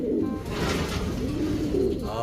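A returned pet pigeon coos steadily and close by, with soft repeated throaty calls running through the whole stretch.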